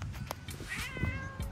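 A cat meows in a backyard, a short meow of moderate loudness rising over low rumbling outdoor background noise with no talking.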